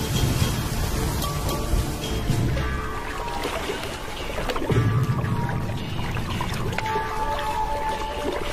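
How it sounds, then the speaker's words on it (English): Rain pours steadily in the Namibian desert, a constant dense hiss of falling water striking the ground, with a few heavier spatters. "First real rains for a year."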